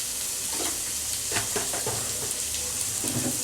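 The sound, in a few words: onions frying in oil in a pan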